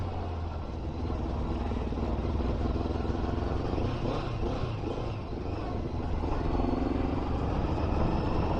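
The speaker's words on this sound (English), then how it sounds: "I'll have to get this bike to run properly" Motorbike engine running rough and uneven on a country road, a steady loud drone with wavering, stuttering pulses throughout and no speech.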